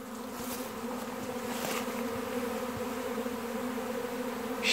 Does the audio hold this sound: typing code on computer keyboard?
no